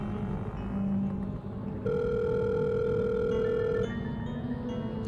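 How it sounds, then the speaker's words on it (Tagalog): A telephone call ringing out in a Filipino drama scene: a steady electronic tone sounds in a long unbroken stretch over background music, loud and close. "Tawagan ko ulit si Luna"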